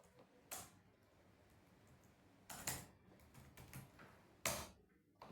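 Quiet keystrokes on a computer keyboard, a few separate bursts of clicks spaced apart over several seconds, close and faint.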